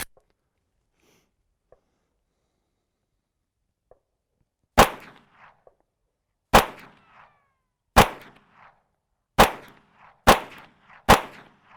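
Six sharp gunshots from a Kimber Micro 9 9mm pistol with a flush magazine crack out alone at an outdoor range, each loud and close with a brief tail, spaced about one to two seconds apart after a quiet lead-in.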